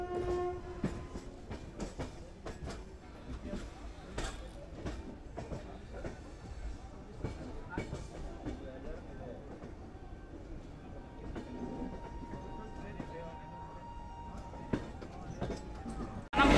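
Duronto Express train pulling into platform 6 at Vijayawada: steady rumble and wheel clatter with scattered clicks and a long sustained horn-like tone near the end, speech faint in the background.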